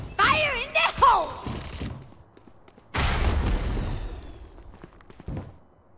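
A grenade goes off in the Valorant video game, one heavy thudding blast with a short crashing decay that follows a brief burst of talk and some shorter clicks and thumps.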